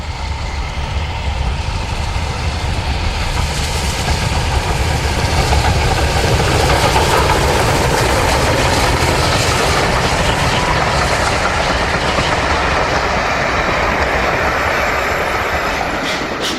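Steam locomotive 34007 Wadebridge works hard on the Mid-Hants Railway near Ropley, a loud, continuous roar of exhaust and rolling stock clatter sustained throughout without voices.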